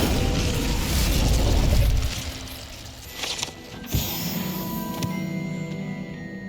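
An Incendio fire spell in Hogwarts Legacy whooshes out in a loud burst of flame that fades over a couple of seconds, followed by a soft thump and quieter ambient tones.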